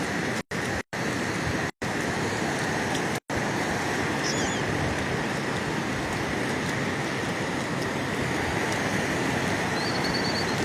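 Ocean waves wash steadily onto the shore, a loud continuous surf roar throughout with no pauses in the wash and no voices.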